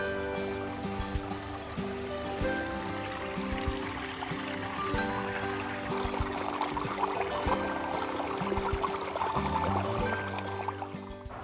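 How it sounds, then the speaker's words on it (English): Little Antietam Creek, a tributary of Antietam Creek on the Appalachian Trail in Maryland, flows and burbles steadily in a close, continuous wash with a low hum running underneath. "This is the Little Antietam Creek."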